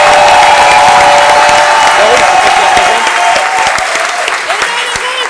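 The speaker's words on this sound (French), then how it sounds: "vous pouvez l'applaudir très fort, Antoine Ruff" Loud audience applause with some cheering at an improv theatre festival in Paris, a full crowd clapping hard, then thinning toward scattered claps as a voice carries on.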